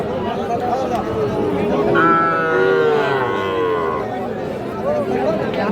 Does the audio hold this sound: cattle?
yes